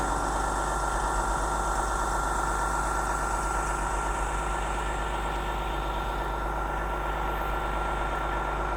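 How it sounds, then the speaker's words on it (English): A coach bus engine idles steadily in a hushed snowstorm among frosted trees, a continuous low rumble with a faint whine, unbroken and fairly close for the whole stretch, with no voices. "I know with the coach idling"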